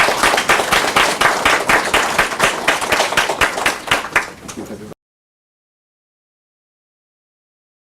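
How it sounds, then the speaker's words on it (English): Students at an early college acceptance and SAT awards ceremony receive a big round of applause: dense, steady clapping from a room of people lasting about five seconds before stopping abruptly. "Let's give everybody here a big round of applause."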